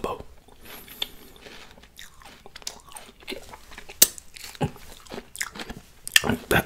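Thai mixed pickled fruits with jelly flakes are bitten and chewed up close. Crisp crunches and wet chewing repeat in an irregular rhythm, with some soft vocal sounds in between.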